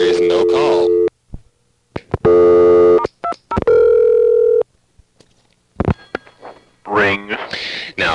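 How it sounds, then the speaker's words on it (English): Telephone tones on a 1A ESS Centrex line from the early 1980s: short bursts, a steady dial tone and other signalling tones, separated by silent gaps, with a voice talking between them. "all of a sudden you got a dial tone"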